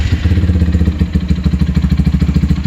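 A Lifan KPR200 motorcycle engine starts in neutral and idles steadily with a deep, rhythmic chugging pulse, loud and close, no voices.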